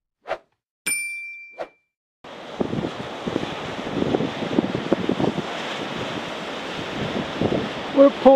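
Wind buffets the microphone at Portsoy Pool, a seaside spot, in a loud continuous roar with gusty surges after a few brief opening bumps, with no talk over it.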